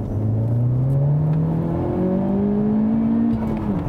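A 2017 Honda Civic Type R engine pulls hard through the revs, its pitch climbing steadily over about four seconds, loud and close with a brief dip as it shifts, no voices over it.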